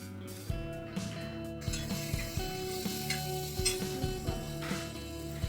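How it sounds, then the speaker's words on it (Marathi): Onion and tomato fry in a pan for a dry lentil vegetable dish, a steady close sizzle broken by repeated scraping stirs and soft clinks of the spoon against the pan, with no talking. "आता कांदा भाजल्यानंतर त्याच्यामध्ये टोमॅटो मिक्स करायचा."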